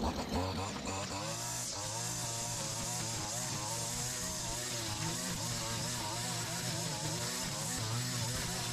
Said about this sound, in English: What better way to christen a brand new trimmer than absolutely thrashing it?